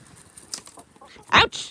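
Backyard homestead chickens peck and cluck at a handed-out snack of worms, a few short close clucks and scuffles with one louder burst near the end.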